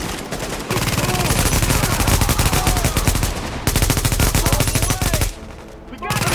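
Rapid automatic rifle fire from The Division video game, a loud sustained burst of closely spaced shots with a brief pause before a second long burst, then quieter game sounds and another short volley.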